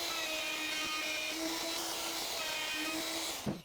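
A wood router cutting dovetail tails in a workshop gives a loud, steady high-pitched whine that holds for several seconds, then dips and cuts off abruptly at the end.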